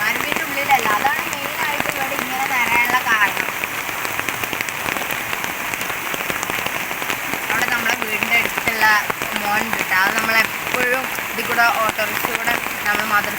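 Heavy rain pours steadily during a flood in Malappuram, beside an overflowing stream, with a dense, continuous hiss of drops close by for the whole stretch and voices faintly mixed in.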